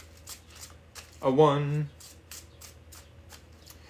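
Tarot cards being shuffled by hand, a close papery riffle lasting under a second partway through, with a person speaking briefly in the clip around it.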